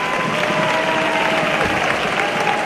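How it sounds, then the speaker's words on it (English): A crowd at a sports semi-final applauds after the buzzer ends a period, a dense, steady roar of clapping that holds evenly throughout. "Round of applause by the crowd."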